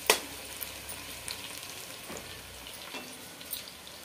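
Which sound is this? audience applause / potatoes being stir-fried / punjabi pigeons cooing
potatoes being stir-fried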